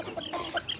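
Native chickens clucking in a brief, close burst of short clucks while pecking at fish.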